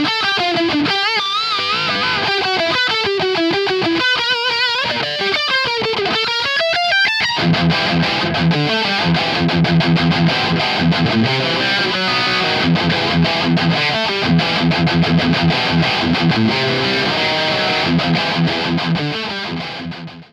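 Electric guitar played through a Marshall DSL amp set for a JCM800-style distorted tone: loud, crunchy overdriven melodic lines, then chugging chords and riffs that ring on before cutting off at the end.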